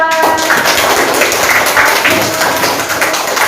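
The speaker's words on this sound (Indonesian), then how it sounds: "tepuk tangan untuk kelompok 4" A class of schoolchildren applauds a presenting group, a dense, even burst of many hands clapping close by with no voices over it.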